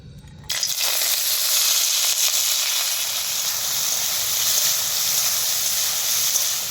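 Chopped onion drops into hot white oil in a wok and starts a steady hissing sizzle that continues evenly after a brief quiet start, close and without speech.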